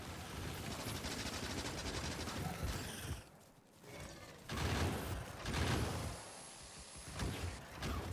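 Factorio gun turrets loaded with piercing rounds keep up a busy rattle of automatic fire, broken by a short lull before the shooting resumes in loud bursts.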